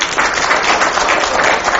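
Applause from an audience adopting a motion at a party founding meeting in Korea, a dense, even burst of many hands clapping that holds steady from start to finish, close and fairly loud.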